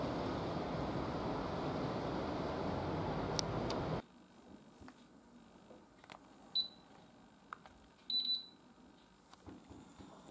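A Whirlpool AMD 343 split air conditioner gives two short electronic beeps a couple of seconds apart as it switches on, heard in a quiet room after a burst of broadband noise stops.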